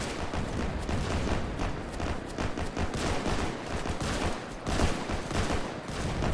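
Heavy gunfire from a video game battle in Shanghai Nanking pours out in a dense, continuous barrage, loud and unbroken from start to finish.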